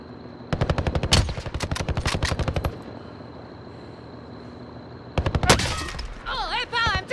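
Bursts of rapid automatic gunfire in a shooter video game, two long loud rattling volleys separated by a quiet gap, with a voice briefly audible near the end.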